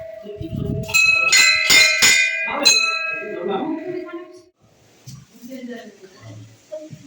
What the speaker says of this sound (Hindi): घंटी बजेले